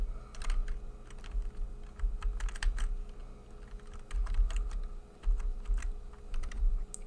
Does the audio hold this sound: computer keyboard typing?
yes